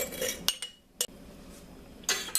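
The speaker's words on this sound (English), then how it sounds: "I'm just going to empty the jar in it. I want to get every bit of it out of there." A metal spoon scrapes butternut soup ingredients from a jar into a soup pot, giving a handful of sharp, close clinks and taps separated by brief quiet gaps.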